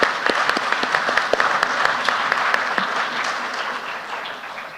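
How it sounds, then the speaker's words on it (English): An audience at an annual general meeting and convention claps steadily to welcome the session chair, a dense, sustained round of applause with sharp individual claps standing out, fading slightly toward the end. "a round of applause to welcome the chair"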